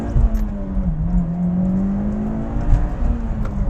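A Mitsubishi Evo X's engine drones with a steady, slowly rising tone during an all-wheel-drive launch, loud and close with a dip and slight climb in pitch.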